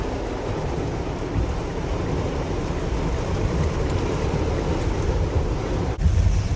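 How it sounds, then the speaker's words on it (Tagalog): Very heavy typhoon rain pours down in a dense, steady roar, a loud unbroken wash of noise that holds nearly level throughout, with a brief dip near the end before it surges again. "napakalakas ng ulan mga pre"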